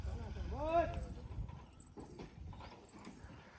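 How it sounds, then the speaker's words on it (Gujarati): Horse hooves clop and shuffle as horses are unloaded from a vehicle, with a short neigh near the start and people talking nearby. "તમે જોઈ રહ્યા છો ઘોડા ઉતારે."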